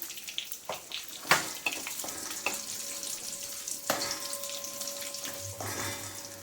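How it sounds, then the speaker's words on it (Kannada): Cumin seeds and urad dal frying in hot ghee, a faint close sizzle with scattered crackles and stirring clinks, plus a brief tap-water trickle, with no speech. "ಇವಾಗ ಇದಕ್ಕೆ ಜೀರಿಗೆ ಹಾಕೋತಾ ಇದ್ದೀನಿ."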